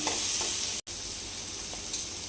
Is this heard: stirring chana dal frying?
yes